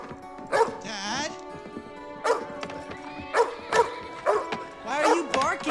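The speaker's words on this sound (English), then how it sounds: "Why is he barking, Dad? Something's outside." A dog gives several sharp barks and yips in bursts, with a whimpering whine in between. It sounds indoors and close, and people talk around it.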